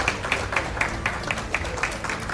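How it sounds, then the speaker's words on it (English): Steady rhythmic clapping from a modest indoor crowd at an eSoccer tournament prize presentation, evenly paced and moderately loud, with no voices on top. "Please a round of applause for him as well."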